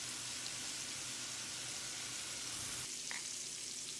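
Steaks searing in a pan over heat just under medium-high, a constant close sizzle and hiss with a brief clatter near the end, no talking.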